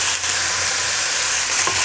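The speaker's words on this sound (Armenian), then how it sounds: "Հիմա նույն յուղի մեջ ավելացնում եմ մսի կտորները" Small pieces of beef fry in hot oil while being stirred, giving a loud, continuous sizzle with brief scraping bursts from the stirring.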